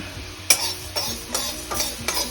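Fenugreek seeds frying in a pan, stirred in four evenly spaced scraping strokes over a low sizzle, close and moderately loud.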